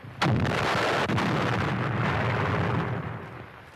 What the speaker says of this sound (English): Feuer bereit. Feuer frei.